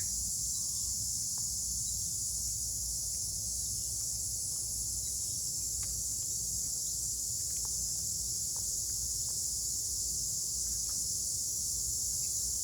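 Cicadas buzzing in a hot, humid August garden, a loud, unbroken high-pitched drone that holds steady throughout, with faint scattered clicks and ticks beneath it.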